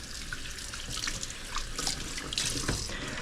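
Tap water runs steadily into a kitchen sink while a mortar and pestle are rinsed, a continuous close splashing stream with small clinks and drips, no talk.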